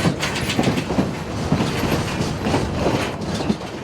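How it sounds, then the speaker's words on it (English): A train rolling along a high mountain railway track toward Osier Station, with a steady rumble and rhythmic clickety-clack of wheels over rail joints, close and continuous. "We pass that landmark just before the train rolls into Osier Station."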